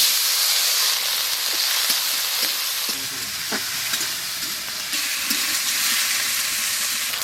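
Chopped onion and tomato fry in mustard oil in a pan for a small-fish and jackfruit curry. A steady, close sizzle with hiss and steam runs throughout, and the occasional scrape of stirring breaks through it.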